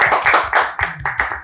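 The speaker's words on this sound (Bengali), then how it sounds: "সবাই একটা একটা করে সুন্দর করে একটা হাততালি।" A group clapping hands at a medical achievement celebration, a short burst of several quick, fairly loud claps in an uneven rhythm, close by.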